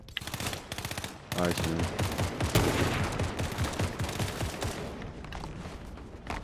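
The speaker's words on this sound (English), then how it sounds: "Is someone shooting at you?" Rapid bursts of gunfire in Fortnite Chapter 5 crackle loud and close, with stretches of sustained automatic fire and a brief spoken remark over it.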